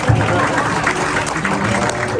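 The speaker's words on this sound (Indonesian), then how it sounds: "Tolong tepuk tangannya untuk beliau." An audience at a farewell event for a consul general in Toronto applauds steadily, a dense wash of clapping filling the room at close range.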